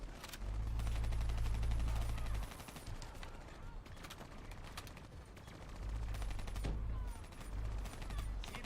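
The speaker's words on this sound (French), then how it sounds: "nous on tire sur les robots" Gunfire at robots in the video game Call of Duty Black Ops 3, heavy bursts of rapid automatic shots rolling in two or three long volleys against a busy game soundscape.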